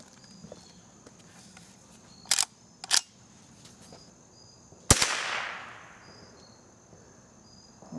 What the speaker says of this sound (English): Okay, that was the first shot out of this gun.